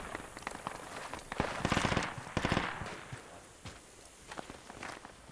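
Gunfire in the video game Project Reality rings out as a scattered run of sharp cracks and bursts, some clustered and louder in the middle, with softer distant shots and shuffling steps around them.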